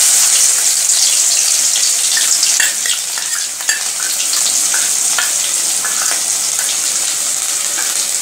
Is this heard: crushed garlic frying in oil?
yes